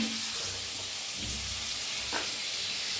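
Stuffed eggplant (bharli vangi) stir-roasting in a hot pan gives a steady, close sizzle and frying hiss, with a brief scrape of stirring partway through and no talk.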